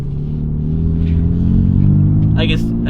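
BMW M4 race car accelerating hard under turbo boost, a loud, steady engine roar building in pitch, heard close with a person talking over it.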